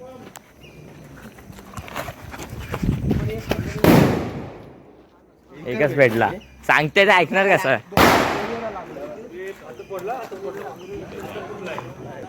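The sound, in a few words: firecrackers going off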